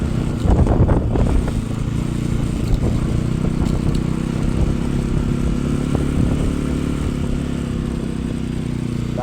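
An NS motorcycle rides in second gear over sand on a badly broken track, its engine droning loud and close with rattling and clatter that is roughest near the start. No voices are heard.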